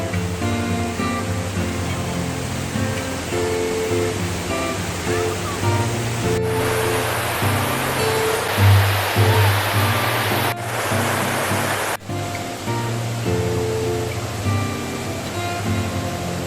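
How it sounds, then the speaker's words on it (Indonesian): The Parangloe waterfall in Gowa roars with a steady, broadband rush of falling water under drizzly weather, loud and continuous throughout, with abrupt shifts in tone partway through. "Air terjun Parangloe merupakan salah satu destinasi wisata alam"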